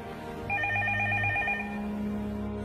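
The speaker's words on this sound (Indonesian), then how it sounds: "Sebuah telepon berbunyi." A telephone rings indoors at night, a rapid trilling electronic bell sounding in a single burst of about a second, then a lingering tone, with no one speaking.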